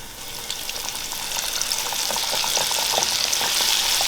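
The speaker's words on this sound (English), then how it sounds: "it's a frying. We can hear it, just a popping sounds" Crappie fillets frying in hot oil, a continuous loud sizzle scattered with small pops that grows slightly stronger as it goes, with no voices.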